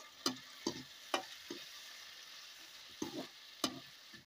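Onions and peas frying in a pan while being stirred. A faint, quiet sizzle sits under sharp, irregular clicks and scrapes of the utensil against the pan, several spaced taps over a few seconds.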